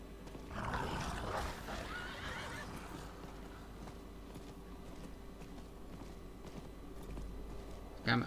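Horse in Diablo IV neighing and whinnying, with soft hoof clip-clop following, heard at moderate level against a steady game backdrop.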